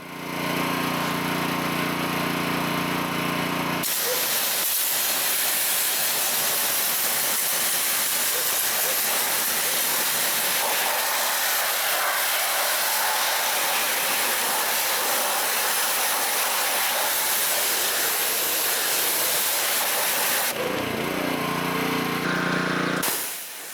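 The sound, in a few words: pressure washer spraying water, pre-rinsing a vehicle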